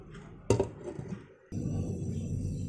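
A cooking pot being covered with its lid and set on a stove while duck kala bhuna cooks, a single sharp metallic clink followed by a brief scrape, then a steady low burner hiss.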